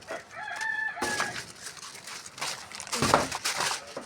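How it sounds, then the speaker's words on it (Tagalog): A rooster crows nearby, a long stretched call, followed by broadband rustling and bustle with a second crow-like cry near the end. "Manok mo."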